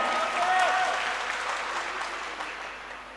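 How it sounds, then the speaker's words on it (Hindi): Applause from the audience at a mushaira poetry gathering, a crowd clapping that swells briefly then gradually fades, with a voice speaking over the start. "इतनी तालियां तो मैं खुद ही बजा लेती जितनी आप लोगों ने बजाई।"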